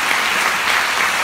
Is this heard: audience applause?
yes